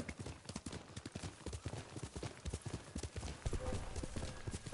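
Horse hooves clip-clop in a rhythmic, brisk gait as a mount is ridden in the video game Ghost of Tsushima, with steady repeated thuds close by and a faint game soundscape behind.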